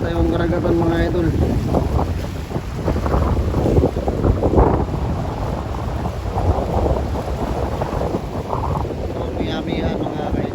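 During the amihan, a strong wind roars over a rough sea, a heavy, continuous buffeting against the microphone with deep surf-like rumble, and a voice can be heard talking under it.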